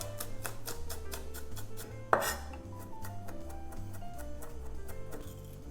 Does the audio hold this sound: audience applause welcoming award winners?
no